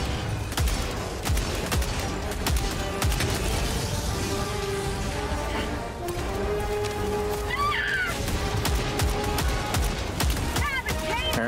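Rapid gunfire from a weapon in Helldivers 2, dense bursts and shots crackling almost continuously through a busy battle mix, with a voice talking over much of it.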